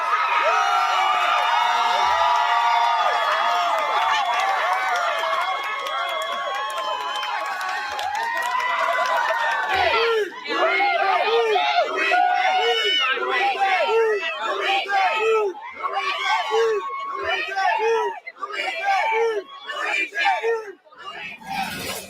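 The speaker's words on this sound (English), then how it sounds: "I mean, Smug, those are people cheering for someone who took the life of a man" A large crowd cheers and whoops loudly throughout, with bursts of excited yelling and chanting voices layered over a dense roar of babble.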